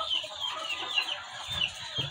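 Egg-laying hens in a layer poultry house cluck and murmur continuously at close range, a busy overlapping chatter of several birds.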